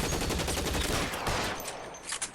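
Rapid gunfire from an L.A. Noire shootout, a dense continuous volley of shots that stays loud throughout, with a few sharper bursts standing out near the end.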